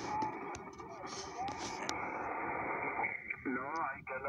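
Noisy amateur radio band static: a continuous hiss and crackle filling the receiver, with faint warbling tones and a squealing heterodyne near the end.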